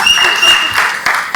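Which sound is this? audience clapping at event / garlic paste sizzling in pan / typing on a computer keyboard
audience clapping at event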